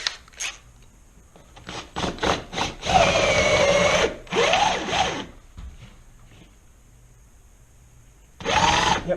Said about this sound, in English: I'm going to extend my drill bit out just a little bit.